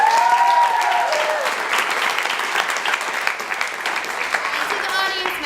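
Theatre audience applauding after a show, a full, dense clapping that starts loud and gradually thins, with voices and a few cheers mixed in.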